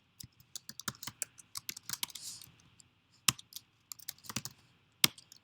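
Quick keystrokes on a computer keyboard, sharp clicks in short bursts with pauses between, close and fairly quiet against a silent room.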